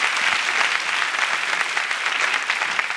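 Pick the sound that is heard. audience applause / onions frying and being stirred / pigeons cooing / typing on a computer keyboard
audience applause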